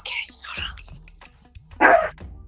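A pet dog yips and barks in a few short, close bursts, the loudest near the end, with faint household noise between.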